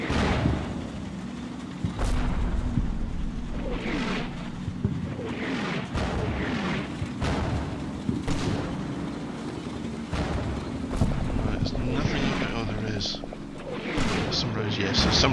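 Incoming artillery rounds in the war game Combat Mission Red Thunder, a series of sharp booms and crumping impacts at irregular intervals over a low rumbling battlefield, with someone talking throughout.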